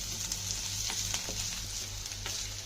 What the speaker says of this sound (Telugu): కరివేపాకుని ఎండు వరగలు వేసి ఇంకొంచెం టేస్ట్ వేపండి